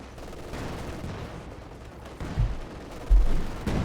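Artillery shells bombarding a Pak 40 anti-tank gun in Company of Heroes 2, a low, muffled background rumble of distant fire, then two heavier booming impacts near the end.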